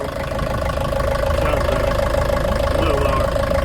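A new Yanmar diesel engine runs steadily aboard a sailing boat under way, a loud, continuous close-up drone with a rhythmic low throb and no break.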